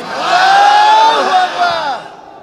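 A large crowd at a Bangladeshi waz gathering roars a unified chant of Allahu Akbar in reply to a takbir call, loud and massed, swelling then fading over a couple of seconds.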